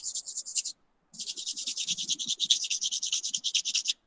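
Sandpaper rubbing a rusty iron nail clean, a dry, rhythmic scratchy rasp of quick back-and-forth strokes, close and steady, with one short pause near the start.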